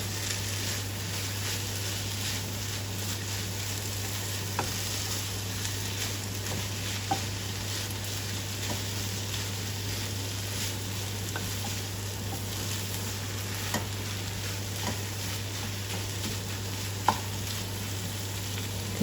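Chicken thoran with coconut and chilli fries in a pan while being stirred, a steady close sizzle with a low hum underneath and occasional light clicks of the spoon against the pan.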